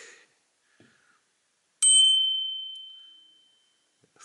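A Widek Deci Bell bicycle bell struck once, giving a bright, clear ding that rings out and fades slowly over about two seconds, with faint handling clicks before it.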